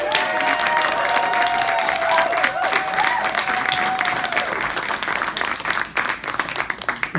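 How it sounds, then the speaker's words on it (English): A crowd claps in loud, sustained applause for Anthony, a blues and classic rock guitar player, as he receives an Artist Award. A few whistles and cheers rise over the clapping before it thins out toward the end. "So please give Anthony a big round of applause for that."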